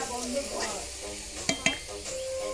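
Potatoes fry in a pan at an outdoor picnic, giving a close, continuous sizzle with two sharp utensil clanks midway and faint voices in the background.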